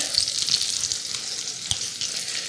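Thick burgers with a pat of melting butter fry over low heat in a Staub cast iron skillet, giving a steady close sizzle with a few soft pops and no talking.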